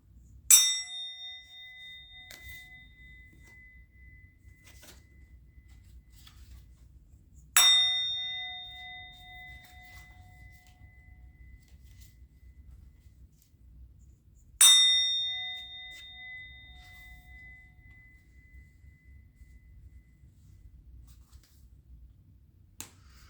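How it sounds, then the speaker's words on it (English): A bell is struck three times, about seven seconds apart, each strike ringing bright and clear before slowly fading into near silence. "I'm going to ring the bell."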